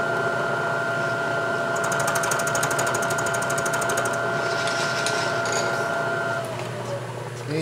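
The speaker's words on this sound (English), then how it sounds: "Like to take rough cut conventional and then finish cut climb milling" A milling machine making a climb-milling finish cut on a clamp bolt head. It gives a steady close mechanical whine with a high tone and rapid chattering ticks part way through, then eases off near the end.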